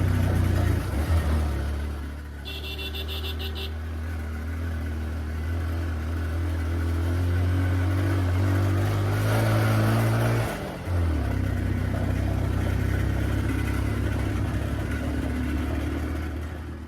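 A motorbike engine labours up a steep hill road in Bandarban, its steady drone rising in pitch and revving before easing off and picking up again, loud and close throughout.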